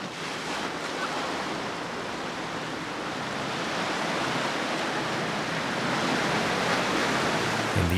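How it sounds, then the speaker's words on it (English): A 4x4 vehicle on a Tanzania safari road trip ploughs through a water crossing, giving a dense, steady wash of splashing and churning water with engine rumble underneath, loud and continuous. "Additionally, we came upon a fun water crossing."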